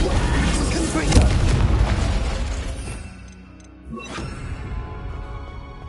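Confringo, the explosion spell in the video game Hogwarts Legacy, goes off with a loud, dense boom and crackling blast. A quieter pause follows, then a second sharp burst.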